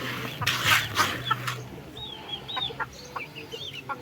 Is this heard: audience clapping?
no